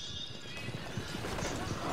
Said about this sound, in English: I just got pummeled by a random fucking horse